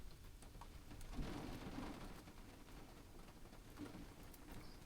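Rain falls and patters on a panel outdoors on a farm in Portugal, a faint continuous patter with scattered drop taps and no talking.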